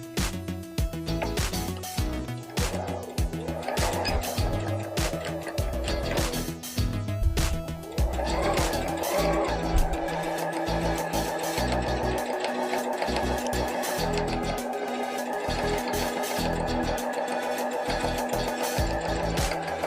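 A sewing machine stitches fabric into a cover for a backdrop pole insert used with pipe and drape, running steadily for the full stretch with some brief knocks and handling noise early on.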